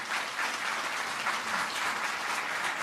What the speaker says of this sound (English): Please, no clapping.